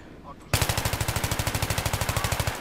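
Rapid automatic gunfire in the Battlefield 3 video game bursts in suddenly and keeps up as a loud, evenly spaced stream of shots for about two seconds.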